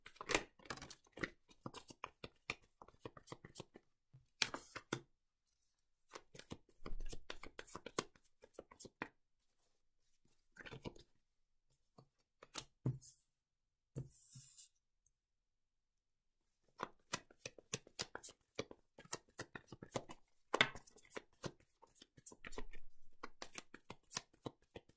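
Tarot and Lenormand cards being shuffled by hand in bursts of dense riffling and flicking, broken by short pauses, close and fairly quiet with no talking.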